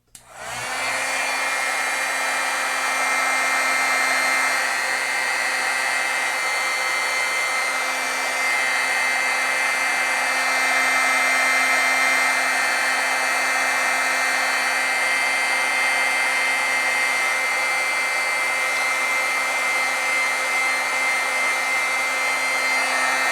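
A heat tool blows a loud, steady whirring hiss on stamped ink on card stock, starting abruptly and running unbroken for over twenty seconds without speech.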